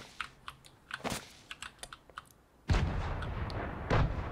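Gunfire in Fortnite: a run of sharp, light clicks and pops is followed by a loud, sustained burst of noisy shots that lingers to the end.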